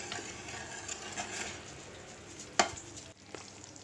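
Tamarind chutney bubbles and sizzles softly in a pan on the stove, a faint, steady simmer close by with a sharp clink of a utensil near the middle.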